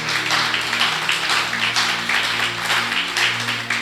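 A congregation claps for God during a Spanish-language church service, producing a steady wash of applause over sustained background music.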